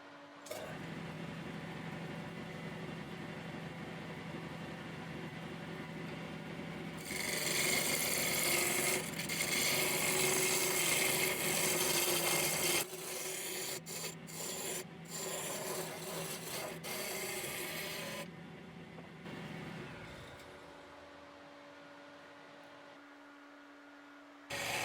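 An old Norwegian-made lathe turns a workpiece, with a steady motor hum under a loud rasping scrape of the cutting tool that surges, breaks into short bursts, then stops, leaving the motor running alone.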